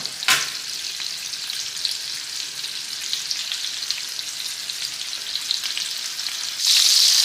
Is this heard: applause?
no